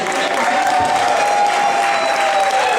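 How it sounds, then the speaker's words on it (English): Audience applause rewarding a bartender at a live convention bartending contest, a dense steady wash of clapping held at even strength throughout, with a faint tonal hum beneath. "Round of applause, please."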